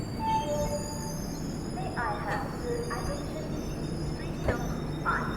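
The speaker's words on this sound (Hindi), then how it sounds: "देवलली रेलवे स्टेशन पर अपनी ट्रेन को लूप लाइन पर लगा दिया गया" Garib Rath express train rolling onto a loop line at Deolali station, a steady rail rumble with a few brief wheel squeals and clanks over a constant, moderately loud background.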